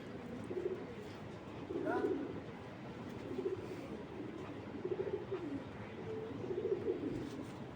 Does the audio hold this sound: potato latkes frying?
no